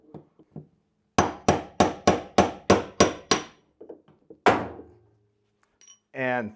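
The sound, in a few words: hammering washing machine top bearing out with a rod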